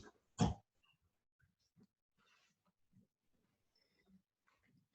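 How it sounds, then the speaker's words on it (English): A single short bark-like burst near the start, followed by quiet with faint scattered rustles and small sounds. "Notice your breath and the sound of barking."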